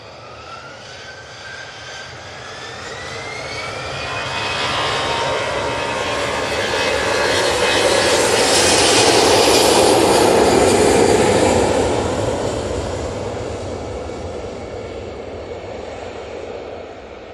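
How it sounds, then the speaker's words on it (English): EasyJet Airbus A320-200 jet taking off from Manchester Airport, a high engine whine joined by a swelling roar that builds to a loud peak overhead, then fades as the aircraft climbs away. "Next out, we have this EasyJet A320-200 going off to Belfast."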